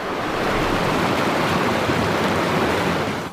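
Steady broadband rush of river water flowing along a riverbank, continuous and fairly loud throughout with no talk over it.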